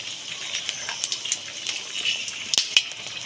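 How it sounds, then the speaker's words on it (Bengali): Dried red chillies crackle in hot mustard oil as a tempering for vegetarian khichuri, with quick bright pops and spits over a light sizzle in a short burst, no talking. "তেলটা গরম হয়ে গেছে শুকনো লঙ্কা ফোড়ন দিয়ে দেবো"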